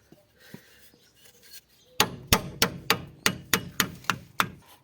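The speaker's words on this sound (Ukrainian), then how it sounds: "От верточкою зараз його з молоточком тюкнемо." Quiet scraping, then about ten sharp metallic taps in a steady rhythm, a small hammer striking a screwdriver close by while replacing a CV joint boot on a Chery Eastar.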